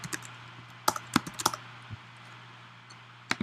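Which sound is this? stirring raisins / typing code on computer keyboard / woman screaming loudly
typing code on computer keyboard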